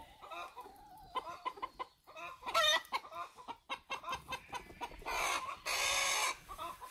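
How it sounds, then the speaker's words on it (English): Hens in a backyard coop cluck loudly after laying eggs, giving repeated sharp cackling bursts in uneven rhythm that build to a sustained, raucous squawk near the end, close by with no talking. "Can you hear that sound the chicken's making? That's the sound they make when they lay an egg."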